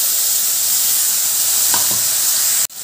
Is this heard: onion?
yes